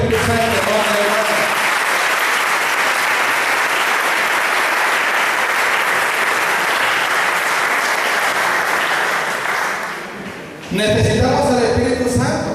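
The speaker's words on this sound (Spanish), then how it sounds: "Un aplauso al Espíritu Santo, hermano y hermana." A church congregation at a Pentecost service gives loud, continuous applause that fills most of the moment, then fades as a voice resumes speaking near the end.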